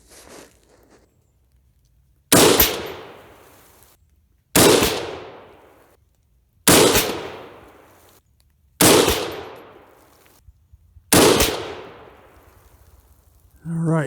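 A 6.5 Grendel rifle fires five evenly spaced shots outdoors at a range, each a sharp loud crack with a long decaying tail, about two seconds apart.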